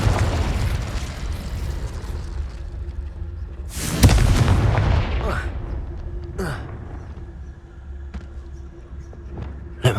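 A Confringo explosive spell goes off in the Hogwarts Legacy video game as a sharp, loud blast over a rumbling background, followed by fainter pops and whooshes while a person talks.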